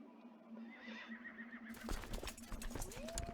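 Horses neighing in the Crusader Kings 2 strategy game, a drawn-out whinny followed by a dense rush of clip-clopping hooves that grows loud and busy as several animals move off together.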